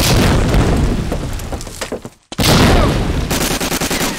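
Grenade blast in Medal of Honor Allied Assault, a loud close roaring explosion trailing off into a brief near-silent gap, then another heavy burst followed by rapid gunfire.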